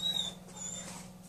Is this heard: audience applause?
no